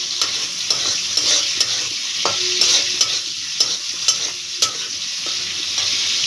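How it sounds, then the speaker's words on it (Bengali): Prawns fry in a pan with a steady loud sizzle, broken by repeated utensil taps and scrapes as they are stirred, no talk. "ভালো করে চিংড়ি মাছটা একটু ভেজে নেব"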